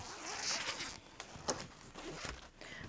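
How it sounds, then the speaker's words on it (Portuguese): A zipper opened on a fabric passport wallet during sewing, with a few short scratchy zipping strokes close by and fairly quiet, with no talk. "O nosso zíper eu vou abrir."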